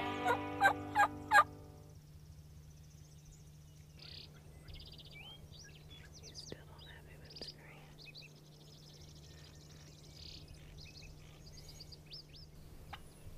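A wild turkey tom gobbles in a short burst of loud rattling calls during a Nebraska turkey hunt, followed by distant birdsong, scattered chirps and a steady low hum.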